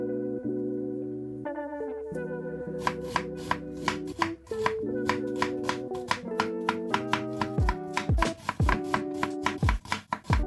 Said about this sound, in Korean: 먼저 양파를 썰어 주시면 되는데요